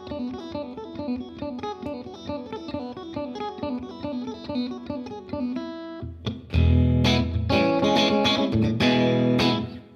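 Electric guitar played through a compressor and a Recording Studio C reverb: a steady, rhythmic picked pattern gives way to loud, sustained, heavily strummed chords washed in reverb.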